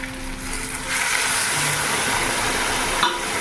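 Water poured into a pan of frying potatoes and onion with cumin, chilli, garlic and turmeric, giving a steady broad sizzle that swells and stays loud, with a brief sharper hiss near the end and no talking.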